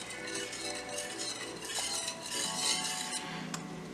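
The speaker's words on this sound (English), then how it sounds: "we're just going to give this a nice stir like this" A utensil scrapes and clinks against a pot as a thickening white wine sauce is stirred, close and steady with faint sizzling, no talking.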